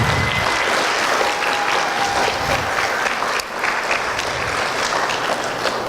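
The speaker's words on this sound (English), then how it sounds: "let's give them a round of applause." A commencement audience applauds teachers at a 2017 graduation ceremony, loud continuous clapping with a few whistles and cheers rising above it, holding steady throughout.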